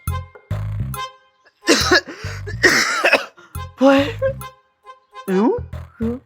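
A person coughing repeatedly in harsh, bursty fits with short pauses between, up close and loud, amid voices in a home setting.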